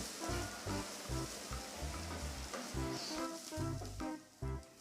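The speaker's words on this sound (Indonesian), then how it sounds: "tambahkan irisan bawang bombay setengahnya juga, tumis sebentar sampai agak layu" Sliced onion sautés in a hot pan for kosan-style fried rice, giving a loud, continuous sizzle broken by rhythmic scraping bursts from stirring.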